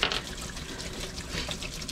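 Hot water drains and splashes steadily out of an inboard/outboard boat engine's manifold during winterizing, a continuous close trickle and gush with no talking.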